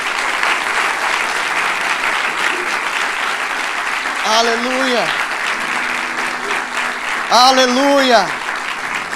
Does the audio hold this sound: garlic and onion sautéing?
no